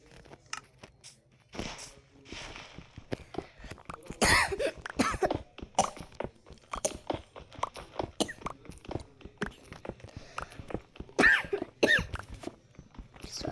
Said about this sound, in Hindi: सॉरी खांसी आ गई थी, मुझे सर्दी और कफ है।